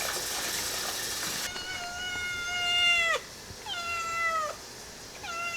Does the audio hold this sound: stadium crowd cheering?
no